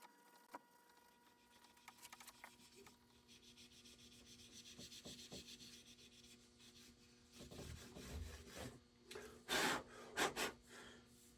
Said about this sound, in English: It's okay to, polish the frets with the steel wool